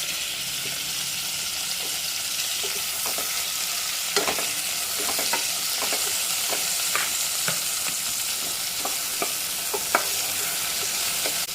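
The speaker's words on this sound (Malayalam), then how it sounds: "വെളിച്ചെണ്ണ ചൂടായി വന്നിട്ടുണ്ട് ഇതിലേക്ക് നമ്മൾ കട്ട് ചെയ്ത് വെച്ചിരിക്കുന്ന വെണ്ടയ്ക്ക ഇട്ട് കൊടുക്കാം" Cut okra frying in hot coconut oil, a loud, continuous hissing sizzle close by, broken now and then by light scraping taps of a spoon stirring the pan, with no voices.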